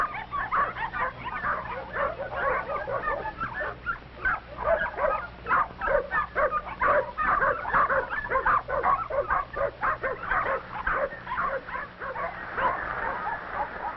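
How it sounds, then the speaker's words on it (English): The mother dog Mack and her seven young puppies bark and yip in rapid, overlapping bursts throughout, loud and close, from an old 1952 recording with a muffled, narrow tone. "Mother Mack barks a warning."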